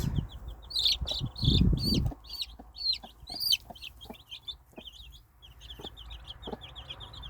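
A mother hen clucks low and close while her baby chicks peep in high, rapid chirps, all pecking and scratching at the ground. The peeping runs steadily throughout.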